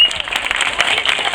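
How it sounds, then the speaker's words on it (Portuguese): An audience applauds a guest singer, a steady dense clapping that is fairly loud and close, heard alone without voices. "quero pedir mais uma salva de palmas para essa convidada especial aqui que está cantando com a gente"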